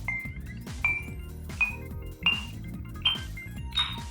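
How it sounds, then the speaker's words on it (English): An HTC Thunderbolt smartphone sounds a run of short volume-button beeps, about six evenly spaced pings that climb steadily in pitch over faint background sound. "I was just playing with the volume on this phone, and it turns out it, like, gradually increases as you keep hitting it."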